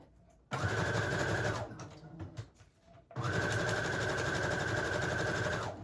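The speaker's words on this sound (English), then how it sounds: "go one more time with a little bit of a zigzag stitch" A sewing machine runs a zigzag stitch through fabric in two sustained, steady whirring runs of a few seconds each, close and loud, with a short gap of small handling noises between them.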